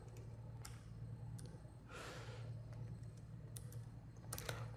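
Computer keyboard typing while writing a word into a Blogger post editor, a few scattered light key clicks over quiet room noise with a soft breath in the middle, no speech.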